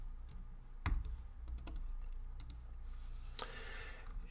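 Computer keyboard typing while coding a Flutter button widget, uneven bursts of light key clicks with a couple of heavier presses, close and quiet with no talk.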